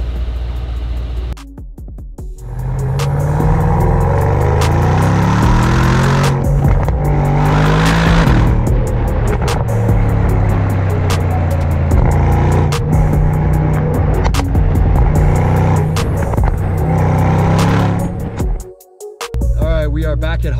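A car fitted with a Kline Stage 1 exhaust on a test drive, its loud engine droning steadily and revving through gear changes for about twenty seconds, with a brief dip near the end.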